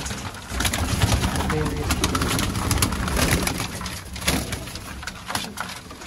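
Pigeons coo throughout amid busy rustling and fluttering, the low throaty calls overlapping in a crowded, lively stretch.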